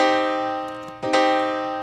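A minor triad chord rings out loud and sustained, decaying slowly, then is struck again about a second in and sustains once more, with no talking over it.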